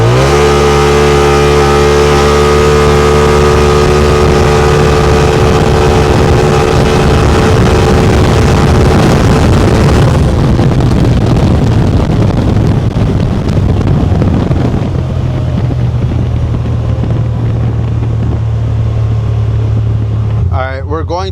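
A Polaris RZR Pro S fitted with an IBEXX stage 2 clutch kit accelerates hard on a test ride, its engine climbing loudly through the revs with heavy wind buffeting the microphone and a brief shift midway.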